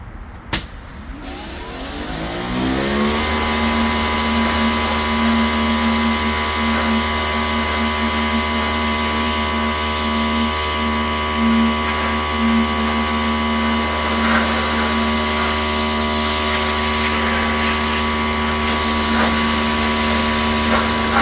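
A Greenworks 80V cordless pressure washer with a 40-degree nozzle starts up and runs as a loud, steady motor whine with constant spray hiss, held close for about twenty seconds without talk.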